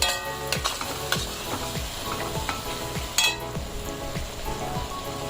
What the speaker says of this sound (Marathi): आपल्याला एक चमचाभर हळद घालायची आहे आणि चांगलं परत एकदा आपल्याला काय करायचं हे परतून घ्यायचं आहे